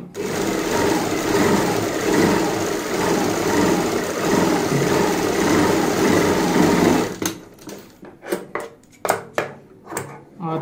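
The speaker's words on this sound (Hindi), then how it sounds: "अब हम दूसरी साइड ऊपर से सिलाई लगा लेते हैं" Sewing machine stitching a topstitch seam along piping on kurti fabric, a steady loud whirring run for about seven seconds, then stopping into short intermittent bursts and clicks.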